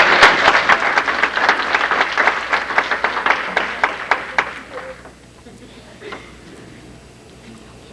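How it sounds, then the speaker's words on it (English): Young athletes and guests at a 1994 school sports banquet in Minco applaud their parents, a loud burst of clapping that thins out and fades after about five seconds, leaving a quiet room with a few scattered claps. "I'd like for the young ladies and young men to give your mom and dad a round of applause"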